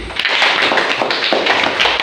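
A classroom of students claps their hands together in a dense, loud burst of rapid, overlapping claps, close by and steady for about two seconds.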